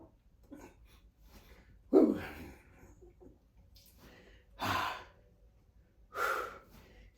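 Heavy exhales during a chest and arm workout, three strong breathy bursts spaced a couple of seconds apart with softer breathing between, close to the mic.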